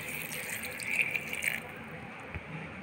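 Water poured into a lemon sharbat mixture of sugar and lemon juice: a steady, moderate splashing stream for about one and a half seconds, then quieter settling.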